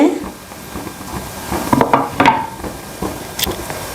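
Onion, tomato, chilli powder, turmeric and salt cook together in a pan at home, with a low sizzle broken by a few clinks and scrapes of stirring across a short stretch.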